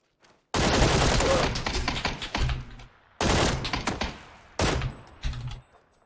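Gunfire in the PUBG video game, three loud close bursts of rapid automatic shots separated by short silences, each burst trailing off with echoing decay.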